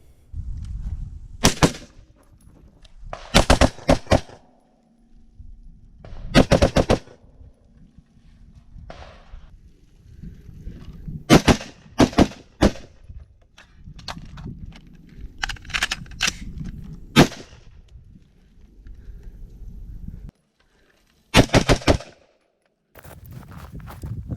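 Shots from a Daniel Defense DDM4V7 AR-style rifle, loud sharp reports fired singly and in short quick strings with quiet gaps and low outdoor rumble between groups.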